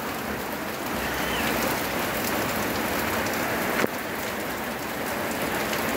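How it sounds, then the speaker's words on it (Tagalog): Heavy rain pours steadily in a mountain setting, a dense, continuous hiss of drops on surfaces with one sharp knock near the end, no voices. "Eh, malakas ang ulan talaga"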